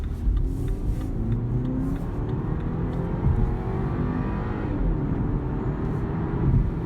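A BMW X1 28i accelerates hard from a standstill during an acceleration test, a steady droning engine and road roar heard from inside the cabin, rising gradually with no speech.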